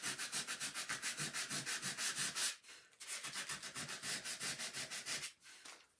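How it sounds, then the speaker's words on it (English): Hand-sanding a wooden top with a rapid, rhythmic back-and-forth scratchy rub, close and fairly quiet, running in two bursts with a short pause between them. "I think I'm going to sand it a little bit more"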